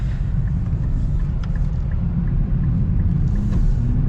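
A 2023 Nissan Z rolls over small bumpy road sections around town, a loud, steady low engine and road rumble heard from inside the cabin, with faint thumps and rattles from the bumps.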